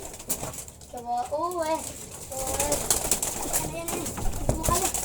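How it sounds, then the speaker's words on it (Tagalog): Pet pigeons cooing in short rolling phrases close by, with a brief flutter of wings, while a child and an adult talk over them outdoors. "ayun ang aking kalapate"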